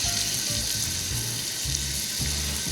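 Onions sautéing in olive oil in a pan, a steady close sizzle with a fizzy hiss and some low bubbling underneath, no voices.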